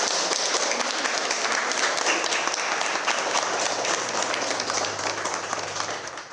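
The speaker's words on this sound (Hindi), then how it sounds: "एक बहुत ज़ोरदार तालियों से इनका मनोबल बढ़ाएं" An audience gives a long, loud burst of applause for a performance, a dense and even roar of many hands clapping that holds steady for several seconds before easing slightly near the end.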